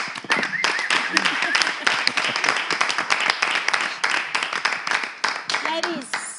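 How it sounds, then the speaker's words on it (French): An audience claps for itself at a live event, with irregular clapping and scattered voices calling out over it, moderately close. "je vous demande de vous applaudir vous-même"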